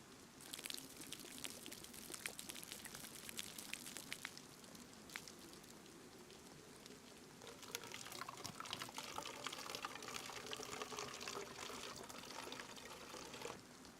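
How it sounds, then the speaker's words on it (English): In Chernarus, a video game setting, a cooking pot is filled with rainwater, a faint continuous trickle and pour of liquid with light splashes, quiet and alone. "Just filling up the cooking pot."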